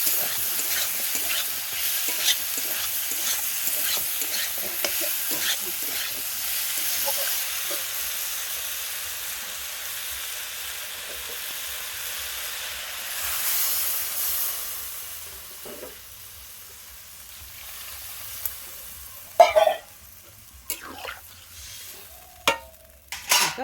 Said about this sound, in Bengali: এবার আলু আর ডাঁটাটা দিয়ে দেবো, দিয়ে সময় ভালো করে কষে নেবো